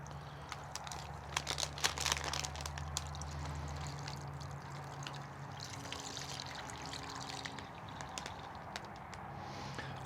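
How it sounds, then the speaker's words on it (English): Liquid is poured into a plastic bag holding pork for curing Canadian bacon, heard as a gurgling trickle with crinkling plastic handling, most active early on, then settling into quieter rustles. "So now I'm just going to dump the liquid in."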